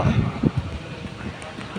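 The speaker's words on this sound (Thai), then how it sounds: "ลมมามันแรง" Strong wind buffets the microphone outdoors at a hammock volleyball game, a steady low rumbling roar with brief louder gusts throughout.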